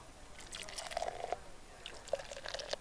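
Beer pouring from a tap in the tavern game Travellers Rest, two short bursts of trickling, splashing liquid with small bright drips, fairly quiet and alone.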